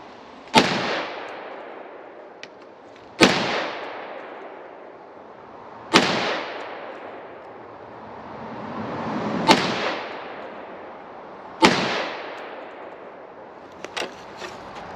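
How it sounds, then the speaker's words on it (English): Beretta BM59 rifle fired at an outdoor range, five sharp, loud shots spaced a few seconds apart, each ringing out in a long echoing tail, with faint clinks between. "let's continue test firing. Now gyro with the BM59."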